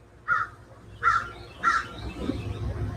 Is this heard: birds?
yes